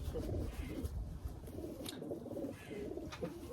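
Soft, low cooing from a male racing pigeon repeats in gentle rolling phrases, close by and fairly quiet, with no talking.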